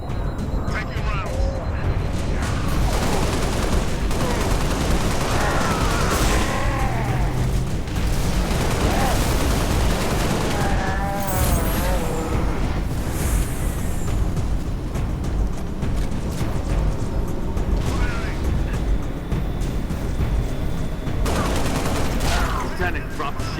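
Battle gunfire in Halo: Reach, dense and continuous, with rapid shots and booming blasts under radio voices and a tense game mix throughout.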